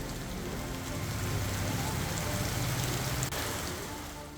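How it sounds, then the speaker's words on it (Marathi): Heavy monsoon downpour over the town of Roha in Raigad, a dense, steady roar of rain hitting surfaces without letup. "रायगडच्या रोहा शहरात मुसळधार पावसाने हजेरी लावली"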